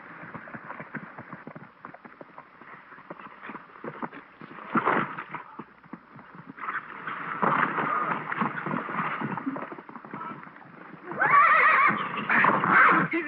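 A horse with a bad reputation whinnies and neighs several times amid irregular hoof clatter and shuffling, growing louder toward the end, with faint movement noise in the background.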